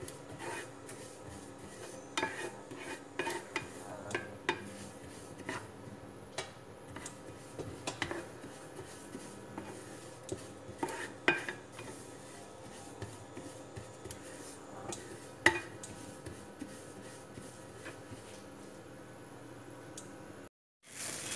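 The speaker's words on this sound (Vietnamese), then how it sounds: "Số 6 mình ra chừng nào mình thấy hạt mè nó vàng đều thôi, mình hãy quậy quậy cho đều nó mới vàng đều nha các bạn" Sesame seeds being stirred while they toast in a pan, giving quiet scraping and rasping with scattered light ticks and taps from the utensil, steady and close, then a short break near the end.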